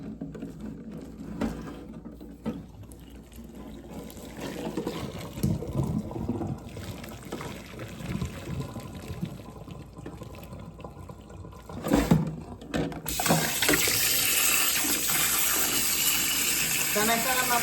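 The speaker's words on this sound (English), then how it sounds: "Then I fill them up with cold water." Cold water runs from a tap into a sink holding eggs, a low splashing trickle at first that swells into a strong rushing stream toward the end, with soft handling noises along the way.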